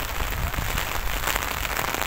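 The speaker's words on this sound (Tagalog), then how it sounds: "Super lakas ng ulan." Heavy rain pours down in a dense, steady hiss, drumming loudly and continuously on surfaces with no pauses and no voices, during an afternoon downpour in Madrid.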